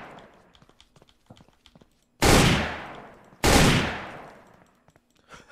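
Two loud gunshots in a video game, fired into the air, each a sharp crack with a long decaying tail, spaced about a second apart, over faint background clicks.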